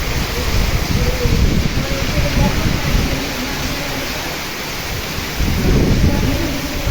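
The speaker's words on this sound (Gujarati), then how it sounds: "વીજળી કડાકા ભડાકા સાથે ફૂલ થાય છે" Heavy summer rain roars steadily as a dense wash of noise during a windstorm, with low rumbling swells of thunder rising and fading beneath it.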